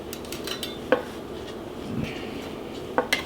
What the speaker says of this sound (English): Is that your cookie spatula that you're using there?